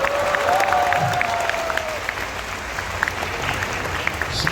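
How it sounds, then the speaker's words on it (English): A large audience at an expo event with Ashneer Grover gives steady applause, a dense continuous wash of many clapping hands with some crowd noise and a brief voice over it at the start. "Can you have a big round of applause for her as well?"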